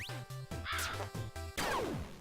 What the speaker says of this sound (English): I really don't like those crows